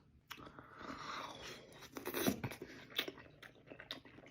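Crunchy Ethiopian kaysir salad being chewed up close, a run of crisp bites and grinding crunches with brief pauses, loud and alone with no talk.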